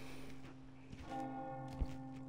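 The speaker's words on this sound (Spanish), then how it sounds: "La campana." A church-style bell tolling in a village in Resident Evil 4 Remake, a faint, distant ringing with sustained resonant tones, a soft thud of footsteps partway through.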